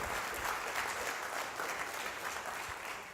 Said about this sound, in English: I know we just clapped, but honestly, let's hear it again for Andrew